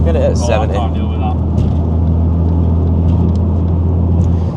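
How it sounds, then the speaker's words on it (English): A Ford Focus ST cruising at 70 mph in fifth gear gives off a steady, low, loud exhaust drone that holds constant the whole time, while a voice speaks briefly over it early on. "at 70 mile an hour, it is a little bit drony"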